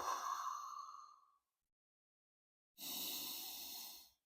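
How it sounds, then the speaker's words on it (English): A slow, deep breath during a Sphinx pose stretch: a long sighing exhale, a pause of silence, then a steady inhale, close and alone. "we're going to do some breathing here"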